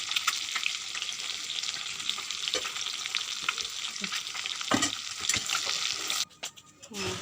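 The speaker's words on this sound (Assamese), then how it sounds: "মোৰ তেল গৰম হৈ গৈছে, ফ্ৰাই কৰিম মই এতিয়া।" Food fries in hot oil, a loud continuous sizzle with occasional stirring knocks and scrapes, then the sizzle briefly drops away before resuming near the end.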